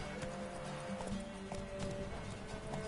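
Hoofbeats of Roach, the horse in The Witcher III, clip-clopping steadily at a quick pace over a bed of game music and ambience, with no talk.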